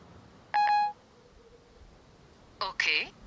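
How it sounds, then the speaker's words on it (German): An iPhone 5 Siri confirmation tone for a sent message: a short electronic chime near the start, followed a couple of seconds later by a brighter, warbling synthetic beep sequence, close and clean against quiet background. "Okay, ich habe die Nachricht abgeschickt."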